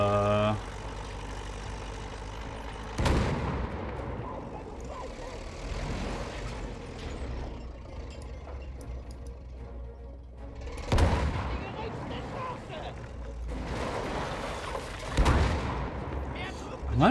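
A tank's small cannon in Battlefield One fires three heavy, booming shots spaced several seconds apart over a low idling engine rumble, with someone talking faintly in between.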